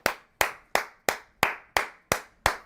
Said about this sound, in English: Let me give him a standing ovation.